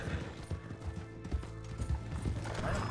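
Horse hooves clip-clop steadily at close range as a Kentucky Saddler is ridden in the Red Dead Online video game, with no talking over the brisk rhythmic footfalls.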